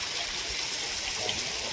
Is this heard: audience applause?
no